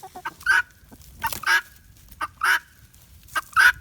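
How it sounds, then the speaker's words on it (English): Ducks and guinea fowl call close by in short bursts of harsh, nasal honks and squawks, several separate calls spaced irregularly with quiet gaps between them. "Cute little ducks back there."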